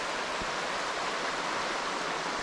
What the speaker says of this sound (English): With some running water